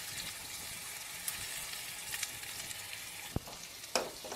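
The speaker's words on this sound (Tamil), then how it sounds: "அடுத்தது பெரிய வெங்காயம் போட்டுக்கலாம்." Large onions hitting hot oil already tempered with cinnamon, cloves, cardamom and stone flower for a drumstick potato gravy, a faint steady sizzle with a few soft clicks and a brief clatter near the end.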